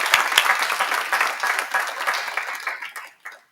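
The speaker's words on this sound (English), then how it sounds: "Let's give him a round of applause." A crowd applauds warmly, dense clapping that tapers off near the end with a few last claps.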